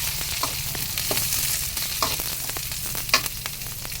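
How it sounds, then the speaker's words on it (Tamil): Green chillies and onion sauté in a hot pan, a loud continuous sizzle broken by repeated scraping stirs and one sharper clink near the end, close up with no talking. "பச்சை மிளகாய் சேர்த்துக்கின்னு வதக்கிட்டு அதில் கூடவே தக்காளி போட்டுக்கலாம்"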